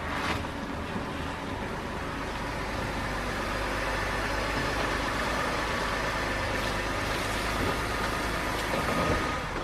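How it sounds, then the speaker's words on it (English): A Jeep engine idles and runs at low speed as it pulls up into a driveway. The steady, even rumble carries through the whole stretch with no voices over it. "So let's pull the Jeep up in the driveway."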